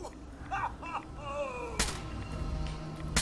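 A single loud rifle shot in Fallout 4, one sharp blast partway through, with faint tonal game sounds before it and a low rumbling tail after.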